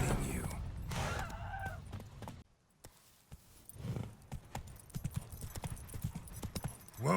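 Roach the horse walks along in The Witcher 3, her hooves clip-clopping in an uneven rhythm with creaks of tack, a brief pause midway, then steadier hoofbeats returning.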